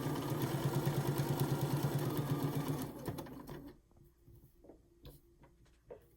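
A sewing machine back stitching a face mask, its needle hammering in a fast, steady rhythm for about three seconds before stopping, then a few quiet clicks and handling noises.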